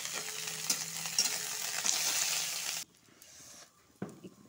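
Chopped raw onion poured into hot oil with curry leaves, a loud broadband sizzle with stirring clatter that cuts off sharply partway through, leaving a quieter simmer and a single knock near the end.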